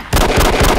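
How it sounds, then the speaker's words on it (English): Magical floating rocks exploding in the video game Send in Jimmy, one loud, sudden crackling burst that sets off a dense, sputtering rumble of close, fireworks-like pops. "Oh, they explode! Explodes!"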